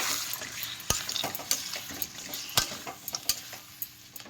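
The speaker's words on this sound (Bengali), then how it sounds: "দিয়ে ভালো করে কষাবো" Fried potatoes with chilli powder and turmeric sizzle in oil in a pan while a utensil stirs and scrapes, sharp clinks against the metal punctuating the steady frying hiss, close and unaccompanied by talk.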